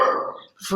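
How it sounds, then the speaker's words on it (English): A pet dog lets out a short bark or two, close and loud, breaking a quiet moment at home while a squirrel is in the back garden. "Sorry, that's my dog barking."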